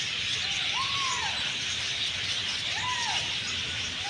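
Lovebirds at an aviary in a Mysore forest area give two drawn-out rising-falling squeals about two seconds apart, heard over a steady broadband hiss of background noise.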